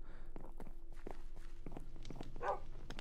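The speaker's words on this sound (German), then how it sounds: "Ich höre immer noch die Schritte." Footsteps in a Minecraft horror mod game come as soft, separate thuds in an uneven walking rhythm over a low steady hum, with a faint extra scuffle near the end.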